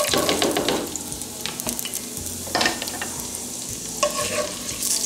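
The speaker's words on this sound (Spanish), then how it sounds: "Una vez que ya se derritió la manteca, ahora le voy a agregar la cebolla." Chopped onion fries in melted lard in a pan for Mexican esquites, a steady close sizzle with occasional stirring scrapes and no talking.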